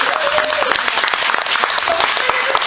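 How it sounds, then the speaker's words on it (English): Dense, loud applause from an audience at a stand-up comedy show, steady clapping throughout with a few voices and whistles mixed in. "So yeah, big round of applause."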